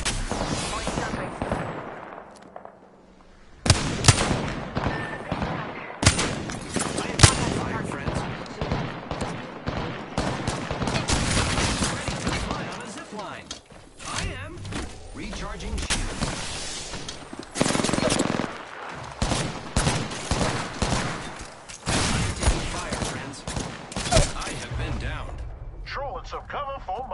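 Video game gunfire in Apex Legends comes as loud, dense bursts of rapid automatic shots and single cracks repeating across the whole stretch, with brief lulls, game effects and voices mixed in.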